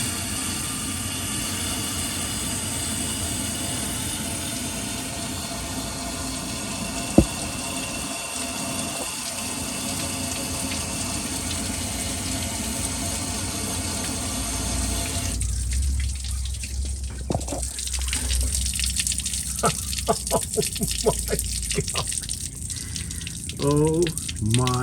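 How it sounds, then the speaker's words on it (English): Coolant running and dripping out of a leaking electric water pump at the back of a Chevy small-block 406 engine, a continuous trickling wash with splashy gushes later, while people talk over it. "it's also leaking out of the water pump, but that's coming out of the back of the engine"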